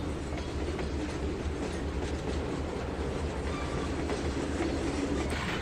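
Steady rumbling clatter of a train rolling along the rails in the video game Trainz 2019, continuous and fairly loud, with a rhythmic clickety-clack and no voices.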